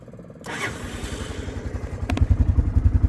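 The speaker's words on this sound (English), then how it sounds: "Starts just like it should. And that's absolutely a cold start." Cold start of a Honda ATC 250SX engine fitted to a Club Car DS golf cart with choke applied: a brief cranking clatter, then the motor catches and settles into a close, loud, rapid thumping idle.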